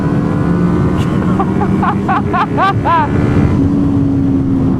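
A Suzuki Hayabusa in fourth gear on a road near traffic is pushed to full throttle, its engine roaring loud and close with a sharply rising whine that climbs in several quick surges.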